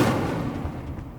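A fiery spell bursts in Hogwarts Legacy with a dull, booming whoosh that starts strong and fades over about a second.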